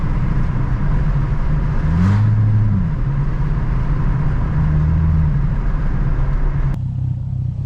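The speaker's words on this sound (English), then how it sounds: "It's got a rumble." A Ford Mustang fitted with cams, its engine giving a loud, steady low rumble heard from inside while driving, with a brief rise in revs partway through and no talking.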